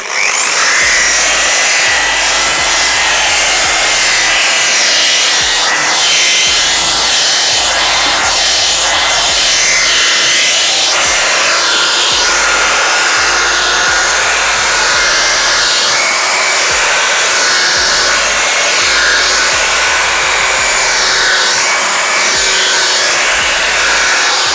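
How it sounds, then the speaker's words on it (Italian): An electric polisher runs at full speed buffing wax on a Venetian plaster wall, a loud, constant whining drone that lasts throughout with slight shifts in pitch as the pad moves, and no talking. "andiamo a lucidare con il lucidatore. Il lucidatore io lo metto sempre ai massimi dei giri"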